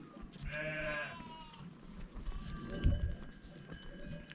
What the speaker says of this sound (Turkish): Yaklaşık 300 koyun var.